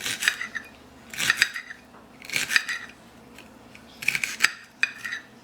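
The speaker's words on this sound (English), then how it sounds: "So I just cut it down the middle, get the seeds out, and I dice mine" A knife dices garden peppers on a cutting board: a few short clustered bursts of chopping clicks and taps, close and fairly sharp, separated by quiet gaps.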